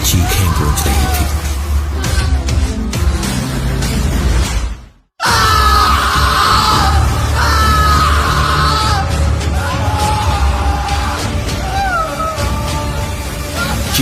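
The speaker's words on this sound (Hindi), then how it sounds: "पूरे माहौल में बस कौशिक की चीखें गूंज रही थी।" Drawn-out screams echo in an animated Hindi horror story about a road accident. Loud, strained cries rise and fall over a dense, continuous backing, with a sharp drop to near silence around the midpoint before the screaming resumes.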